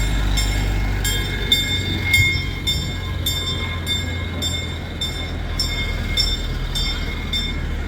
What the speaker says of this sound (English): But here comes the train.